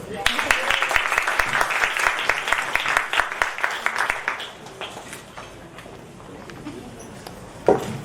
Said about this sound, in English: Let's put a round of applause together for our chair